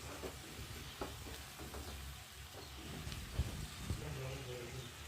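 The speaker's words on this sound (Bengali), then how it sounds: "বাঁধাকপিটা অনেক কষাতে হয়, যত সাঁতলানো হয় তত বাঁধাকপির টেস্টটা ভালো হয়।" Shredded cabbage sautéed in a pan over low heat gives a steady soft sizzle with scattered stirring scrapes and a couple of sharper knocks, fairly faint and continuous throughout.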